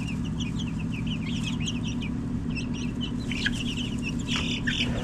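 High, rapid peeping from a group of chicks in a box, chirps overlapping in quick bursts above a constant low background hum.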